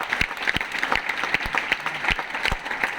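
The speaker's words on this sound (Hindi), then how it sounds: "मेरे सर के लिए कोई जोरदार ताली हो जाए" Audience applause for a speaker's mentor at a Modicare business event, a steady wash of many hands clapping throughout, dense and fairly close, with a few sharper individual claps standing out.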